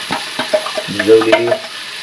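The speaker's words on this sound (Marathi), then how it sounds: "डाल थोडी परतून लिया" Soaked dal is stirred into reddened onions in a pan, with loud, close scraping strokes in a quick rhythm over a light sizzle, and no speech.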